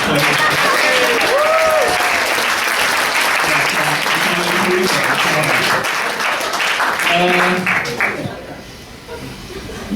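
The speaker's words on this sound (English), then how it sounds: "I think Mark deserves a round of applause at this point." Wedding guests applaud the groom during a speech, a loud round of clapping with cheers and whoops on top that swells, holds, then thins out and fades near the end.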